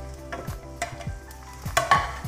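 Cauliflower tipped into a pan of onions frying with ginger-garlic paste for aloo gobi, sizzling steadily while a spoon scrapes and stirs in several quick strokes, close and clear with no talk.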